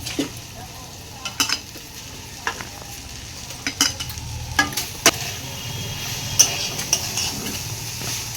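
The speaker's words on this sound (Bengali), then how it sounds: "মোচার কাঁঠাল বিচি ভালো করে একসাথে মিশিয়ে কষিয়ে নেব।" Banana flower and jackfruit seeds are stir-fried together in a pan, with loud, repeated scraping and clinking of a spatula over a continuous low sizzle, close and uneven in rhythm.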